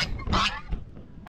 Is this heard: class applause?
no